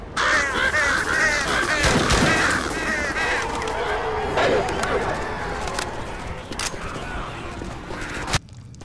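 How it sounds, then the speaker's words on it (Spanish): Crows caw repeatedly in the video game Left 4 Dead 2, their harsh calls layered over continuous game noise and ambience, with a sharp bang late in the sequence. "¡Genial! ¡Cuervos!"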